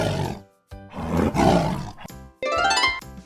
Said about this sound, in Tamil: நான் தான் புலி. சுறுசுறுப்பா சுத்துவேன். எனக்கு கர்ஜிக்கத்தான் பிடிக்கும்.